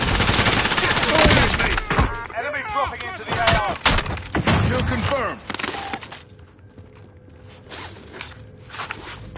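Rapid gunfire bursts and single shots crack loudly in a Warzone Rebirth Resurgence match, mixed with footsteps and game effects, then thin out into quieter sporadic shots and background noise.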